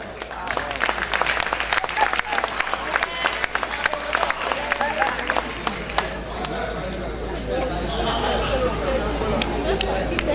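A large audience at a slam poetry show at the Grand Rex applauds loudly, dense sustained clapping with cheers and crowd noise filling the whole stretch, with a voice speaking over it.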